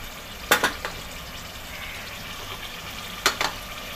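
Mutton for mutton pyaza sizzles quietly in a pan, broken by two sharp scraping stirs about three seconds apart against the low, steady frying hiss.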